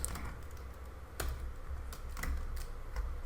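Keys clatter on a computer keyboard while code is typed into an Angular project, a handful of separate clicky strokes over a steady low hum, no voices.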